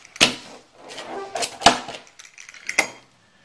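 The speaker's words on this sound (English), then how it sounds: "We're going to slice through 1, 2, we got 4 slices, and then we're going to cut those slices in half." Pizza with a crispy bottom being cut into slices, several sharp crunching cuts of the crust spaced out over a few seconds, with softer scraping between them, close and clear.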